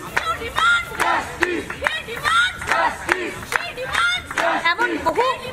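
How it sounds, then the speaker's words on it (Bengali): Junior doctors protesting outside a health building chant slogans as a crowd, loud rhythmic call-and-response shouts repeating in close bursts, with no other background sounds. "আর শুনবো কি স্লোগান এই মুহূর্তে।"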